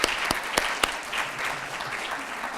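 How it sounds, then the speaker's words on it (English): Audience applause at a university education awards ceremony: a few sharp, distinct claps stand out at the start over a thinner spread of clapping that continues more softly. "Yes, another round of applause."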